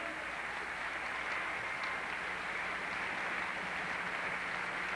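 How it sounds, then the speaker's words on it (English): A theater audience at the Capitol Theater bursts into sustained applause, a dense, even wash of many hands clapping for a Kiwanis chapter at a songfest, with no clear speech. "So if you would give the Kiwanis chapter a round of applause."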